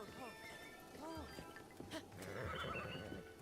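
Two sharp whinnies from a horse in the Zelda game Breath of the Wild ring out close by, with faint hoof clops and a murmur of speech behind them.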